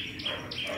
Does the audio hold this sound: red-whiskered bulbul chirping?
yes